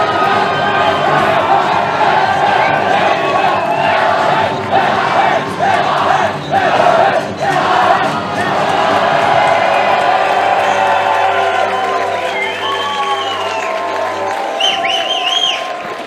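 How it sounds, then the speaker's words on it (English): A large, intense crowd at a team bouldering arena event roars and cheers continuously, a dense wash of voices with shouts and whistles rising through, loud and sustained throughout. "So I think that's why we can see this intense crowd."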